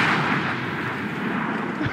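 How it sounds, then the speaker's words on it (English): A tank's 75 mm gun fires in World of Tanks, one heavy booming blast that fills the whole short moment and rumbles away without any voice over it. "shoot you in the front with my little 75 mm gun"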